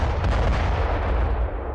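Blasts from a drone strike dropping bombs on Ukrainian army positions: heavy, rumbling explosions merge into a dense, loud roar that fades slightly at the end, with no voices.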